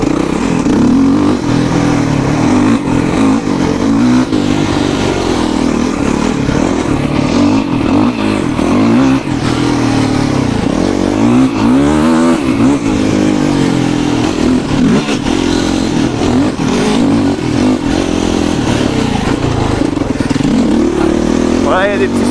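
A quad bike engine drones steadily around a dirt circuit, rising and falling as it accelerates and revs with clattering from the terrain. Someone talks over it throughout.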